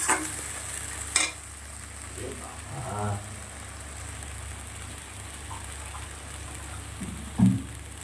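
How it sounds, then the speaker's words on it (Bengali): A paste of ground white and black mustard seed, cumin and coriander frying in a pan, giving a low, steady sizzle broken by a few louder spatula clinks and scrapes. "একটু কিছু সময় মশলাটা ভেজে নেব। সর্ষেটা খুব বেশি ভাজতে লাগে না, হালকা ভাজবো, কষাবো।"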